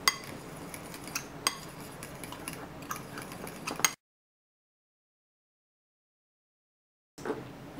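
A utensil stirs a lemon emulsion hair mask in a bowl, giving soft scraping with sharp clinks and taps, then a long silence and a brief return of stirring.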